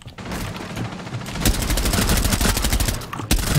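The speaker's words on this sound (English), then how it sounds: "Being shot at." Rapid bursts of gunfire from the video game Rainbow Six Siege crackle in a dense, loud volley, with sharp louder shots punching through near the middle and the end.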